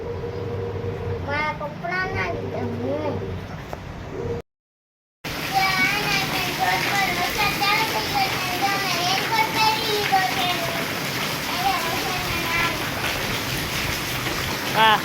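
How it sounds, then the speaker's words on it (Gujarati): Steady rain hisses in the background while children's voices chatter and squeal over it, fairly close, after a brief silent break. "વરસાદ ચાલુ થઈ ગયો ને વરસાદ આવવા માંડ્યો છે"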